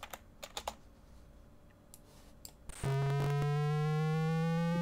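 Keyboard taps and clicks give way to a sudden, steady high electronic tone from a VIC-20 computer that holds loud and unbroken to the end.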